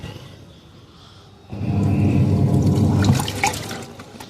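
A semi-automatic washing machine begins rotating its load in water, with a quiet hum giving way to a louder sloshing, churning whoosh midway and some splashes near the end, close by and without talk.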